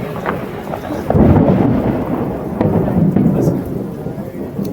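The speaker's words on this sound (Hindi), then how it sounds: "भयानक बारिश हो रही है भाई।" Heavy rain pours down steadily, with low rumbling thunder rolling underneath, loud and close.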